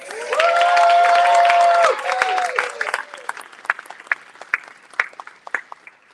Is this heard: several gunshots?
no